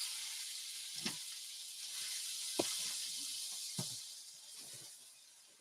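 Food dumped into a hot pan for a Waffle House style lunch, giving a steady broad sizzle and hiss with a few soft clinks and knocks, fading slightly toward the end.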